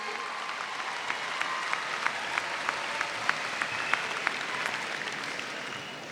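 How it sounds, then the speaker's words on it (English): Parents receive applause from a large crowd at a 2014 high school graduation ceremony, a steady, fairly distant wash of many hands with a few sharper individual claps standing out above it. "How about giving a round of applause for your parents?"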